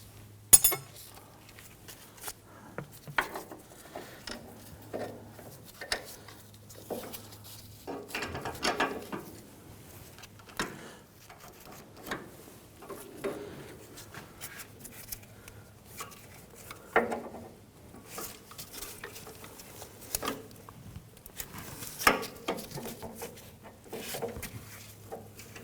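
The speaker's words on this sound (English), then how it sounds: "use our 18mm wrench on the inside" An 18mm wrench clicks and ratchets in quiet, irregular bursts while tightening front sway bar end links on a 2006-2010 Hummer H3, with occasional small metallic taps between turns.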